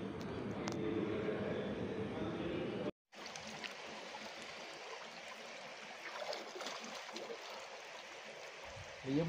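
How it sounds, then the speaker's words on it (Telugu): Gunjana waterfall in a forest area roars as a steady broadband rush of falling water, continuous and fairly close, with a brief dropout partway through; no voices are heard. "ఎంత బాగున్నాయో వాటర్ ఫాల్స్ ఇవి"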